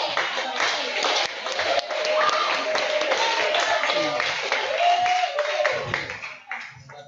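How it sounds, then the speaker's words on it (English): An audience at a meet and greet claps for a guest named Kathy, a dense patter of hands filling the room without a break and fading out near the end. "Give Kathy a round of applause"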